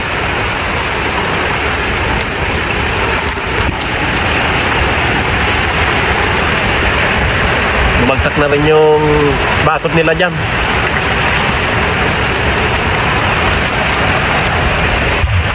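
Strong typhoon wind and heavy rain sweeping a coastal village in Bicol, a loud continuous roaring wash with someone talking briefly over it.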